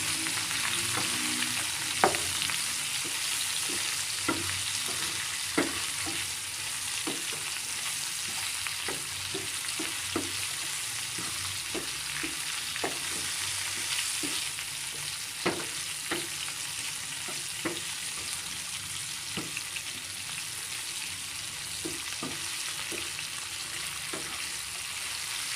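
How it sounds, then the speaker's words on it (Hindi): Pulao ingredients frying in a pan with salt and black pepper while being stirred, a continuous loud sizzle with repeated scraping taps of the spoon against the pan throughout, no voices. "इसके अंदर भी हम नमक ऐड करेंगे, थोड़ी सी काली मिर्च। सबको मिक्स करेंगे।"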